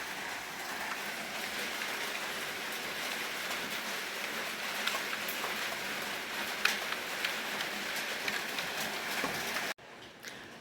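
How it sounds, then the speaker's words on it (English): Heavy rain pours steadily outdoors, a dense continuous hiss with scattered drop impacts, loud and unbroken for most of the time before cutting off abruptly near the end. "it's raining heavy outside"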